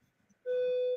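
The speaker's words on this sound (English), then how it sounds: "then those fire detectors pick it up, and then the whole building alarm goes off like it's going off right now" A building's smoke-triggered fire alarm gives a single steady electronic beep lasting about half a second, clear and fairly loud against a quiet room, with faint murmurs beforehand.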